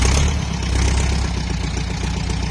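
A tractor engine in Buriram, Thailand idles with a steady, low, chugging rumble, loud and close, with no talking.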